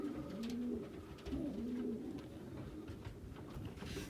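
Racing pigeons in a loft giving repeated low, rolling coos, close and steady over a soft background hum.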